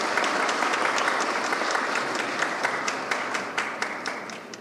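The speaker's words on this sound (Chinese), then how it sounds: "我们是不是给他一个掌声呢？" An audience applauds baseball player Lin Chih-sheng, Taiwan's national-team slugger with a record 300 professional home runs, at an event: dense, continuous clapping from a sizeable crowd with sharper individual claps standing out, fading slightly over several seconds.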